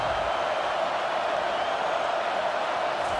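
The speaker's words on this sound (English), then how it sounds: "Listen to this crowd just shaking the girders of this place" A roaring stadium crowd in the College Football 25 video game, during a Texas vs Texas Tech matchup, produces a constant, dense wash of cheering noise at steady loudness with no breaks.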